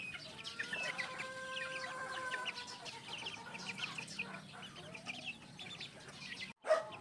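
Chickens and chicks cluck and murmur softly nearby in a backyard game farm, with faint high peeping and a few brief calls, fairly quiet and without speech.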